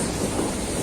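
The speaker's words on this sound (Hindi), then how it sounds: "वो आप लोग देख सकते हो कि कैसे झरने टाइप में गिर रहा है" Water pours from a canal pump outlet in a waterfall-like stream at a ghat on the Ganga, a steady broadband rushing roar filling the short stretch without pause.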